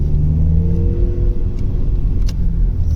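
A Vauxhall Cavalier, converted from automatic to manual, drives along with a loud, steady engine drone from inside the cabin, a brief rev rising midway.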